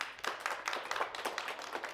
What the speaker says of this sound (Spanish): ¡Un aplauso para Miranda!